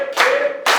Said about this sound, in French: Nous allons nous lever et applaudir.